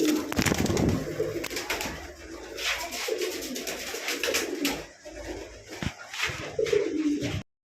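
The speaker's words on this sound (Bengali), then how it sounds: "এখানে কিন্তু আরও একটা জোড়া কবুতর আছে, আর এটা হচ্ছে আপনার ঝাক কবুতর" Domestic pigeons kept in a loft, a mated pair and a flock, coo in soft repeated bursts close by, with wing flutters and shuffling noises around them.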